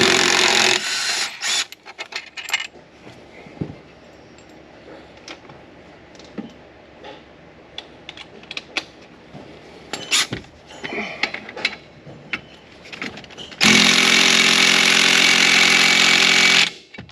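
A small impact gun works on the pulley of a Polaris Ranger 900 in bursty, rattling runs, then a louder sustained burst near the end, with nothing spoken.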